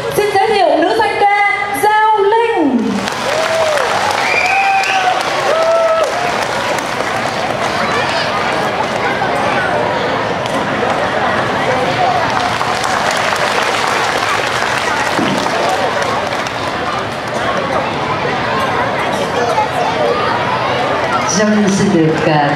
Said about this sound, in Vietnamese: Xin quý cha và quý vị dành một tràng pháo tay thật lớn.